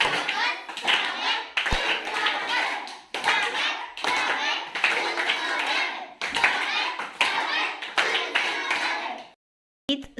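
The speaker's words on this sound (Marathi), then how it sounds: "आता आपण पाहूया सुस्वागत टाळी वन टू थ्री स्टार्ट" A group of children perform a 'suswagat' welcome clap, chanting together in rhythmic bursts with clapping mixed in, loud and close, ending with a short pause and a final clap.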